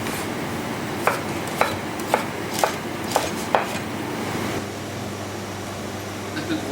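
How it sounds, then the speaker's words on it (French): A kitchen knife chops sweet potato and potato into rough cubes on a board in a restaurant kitchen. Six evenly spaced, sharp chops sound close over a steady fan-like hum, then the chopping stops. "donc on la coupe grossièrement"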